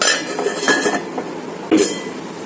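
A lid clattering onto a pan of frying chicken, a couple of close metallic clinks and knocks over a faint background hiss, no voices.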